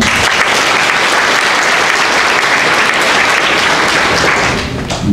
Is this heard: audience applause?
yes